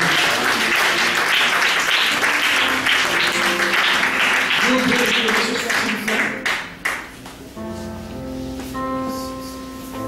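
Church congregation applauds loudly in a dense sustained wave of clapping mixed with shouts, fading out as a sustained organ or keyboard chord rings in near the end.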